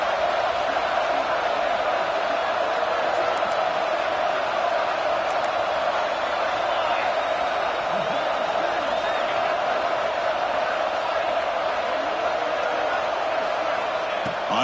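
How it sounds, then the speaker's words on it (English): Stadium crowd at a football game, a loud steady roar filling the whole stretch as fans try to rally the defense for a red zone stop, with an announcer's voice faintly over it. "And here comes the noise. This crowd is trying to inspire this defense to make a big red zone stop."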